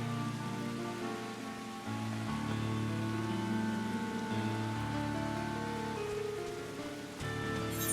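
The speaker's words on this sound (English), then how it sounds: "Hope it doesn't flood with all this rain." Steady rain falls in Final Fantasy XIV, a constant soft patter that runs the whole time beneath a sustained tonal music bed that shifts chords.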